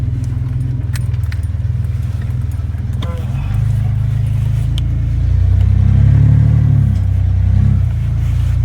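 A Ranger truck's engine rumbles low and steady while backing down a slick trail, then revs up louder with a rising, straining drone for several seconds.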